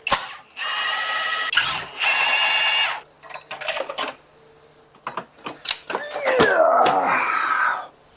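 A socket wrench loosens the battery bolts on a Nissan Murano, making close, sharp ratcheting bursts in short spurts, broken by pauses and light metallic clicks and clanks.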